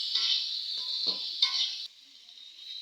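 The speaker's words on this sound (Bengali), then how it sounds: "কেটে রাখা টমেটো দিয়ে দেবো দিয়ে হালকাভাবে ভেজে নেবো" Chopped tomatoes lightly frying in a pan give a steady close hiss, broken by a couple of brief stirring clatters. The sizzle drops to a quieter simmer toward the end.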